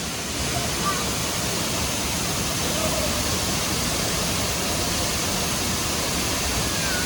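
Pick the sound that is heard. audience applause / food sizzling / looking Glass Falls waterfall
looking Glass Falls waterfall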